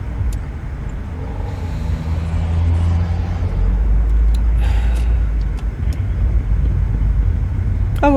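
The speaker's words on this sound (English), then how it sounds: "It's a massive truck." A massive truck passes by outside, its deep engine rumble swelling and holding loud and steady for several seconds with a brief hiss near the end.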